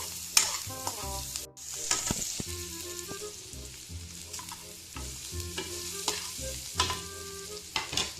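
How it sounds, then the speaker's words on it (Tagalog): Ginger sautéing with onions in a pan for a Filipino binagoongan vegetable dish: a busy close sizzle under frequent spatula scrapes and clinks against the pan, with no voices. "Luto ng ating sibuyas, isunod natin ang ginger. Yan. Luya guys. Lutuin lang natin ang luya."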